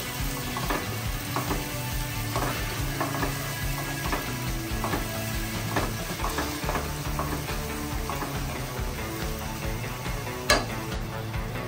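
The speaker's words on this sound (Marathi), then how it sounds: "सगळं चांगलं मिक्स करून घेऊया." Onion, tomato and mint masala frying in a pan and stirred, a steady sizzle with soft scraping of the spoon against the pan throughout, close and continuous with no talk.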